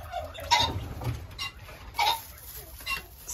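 Hens in a backyard coop give a few soft, scattered clucks and short calls at close range, with quiet room noise between them.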